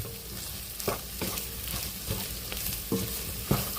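Pork fries in a pan with a steady close sizzle, broken by a few sharp stirring scrapes and clacks of a utensil, and no one speaks.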